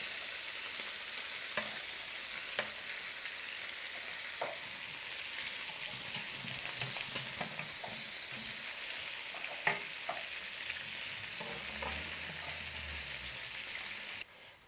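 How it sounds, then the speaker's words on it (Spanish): Chicken pieces sizzle steadily in a hot pan while being turned, a constant close frying hiss broken by scattered pops, taps and scraping, with no talking. "Ya voy a voltear el pollo para que se dore por otro lado."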